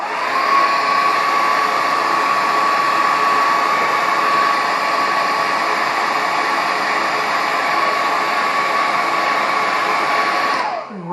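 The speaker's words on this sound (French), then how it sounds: "Je vais remettre un coup de sèche-cheveux. Désolée pour le bruit." A hair dryer blows on a watercolour painting held taped down, a loud steady whooshing hiss with a constant whine that runs unbroken for about eleven seconds before switching off.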